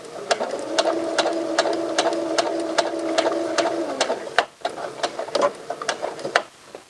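A sewing machine stitches cropped pants with a close, rhythmic mechanical chatter that runs steadily for about four seconds, stops, then resumes in short uneven bursts.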